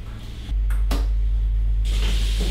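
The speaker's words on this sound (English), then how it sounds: "we're ready to start the wash routine now. You'll see we're using a standard GEA Variotherm. This is an automatic plant washer." A GEA Variotherm automatic dairy plant washer starting its wash routine: a sudden low hum kicks in and holds steady, with a brief hiss of spraying water and a few clunks over it.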